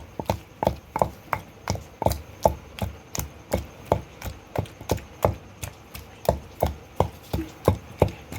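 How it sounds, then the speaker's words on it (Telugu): A knife chops onion thinly on a board for a cucumber chutney, about twenty crisp, steady knocks in an even rhythm, close and clear with no talk. "ఉల్లిపాయ అయితే వేస్తున్నాను ఇట్లా సన్నగా కట్ చేసి"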